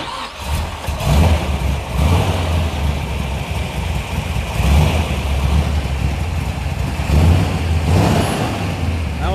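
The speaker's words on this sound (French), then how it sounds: "Vas-y, démarre le moteur." A medium engine starts and then runs steadily at a live car event, with a continuous loud rumbling idle and slight rises in revs throughout, with no talk.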